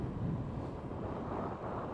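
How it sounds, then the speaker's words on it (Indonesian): Strong wind roars and buffets the microphone continuously, a dense low rumble with no breaks and no voices. "angin kencang banget"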